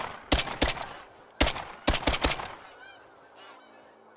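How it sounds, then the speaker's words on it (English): A Canada goose in theHunter: Call of the Wild honks in loud repeated bursts, two early calls and then a quick cluster of four, followed by quieter fading calls at a distance. "Got ourselves a Canada Goose over here."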